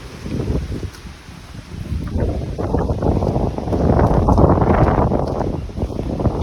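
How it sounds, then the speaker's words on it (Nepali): Strong stormy wind roars steadily through trees, gusting louder midway with rustling, buffeting noise and some microphone wind rumble, no speech. "हावाहुरी देख्न सक्नुहुन्छ, यो रुखले नि"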